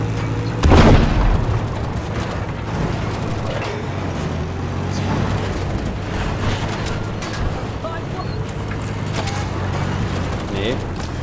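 A tank cannon fires in Battlefield 5, one heavy close boom near the start trailing into rumbling battle noise and scattered shots, while someone talks in German.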